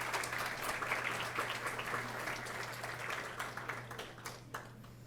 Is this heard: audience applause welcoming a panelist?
yes